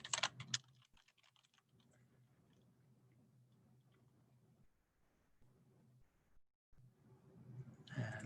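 Keyboard typing while a name is entered into a field in Solid 4 CAD software, appearing as soft, quiet clicks at the start and again near the end, with a faint hum in between and no speech.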